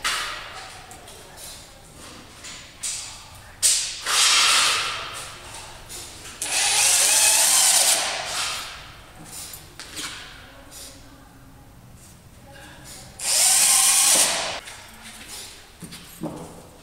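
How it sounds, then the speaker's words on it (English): A power drill drives screws to fix a guide onto a rubber mat, with two sustained loud whirring bursts near the middle and end, shorter buzzes and clunks between them, and a voice speaking intermittently. "And then we want to screw a guide where we put our mark."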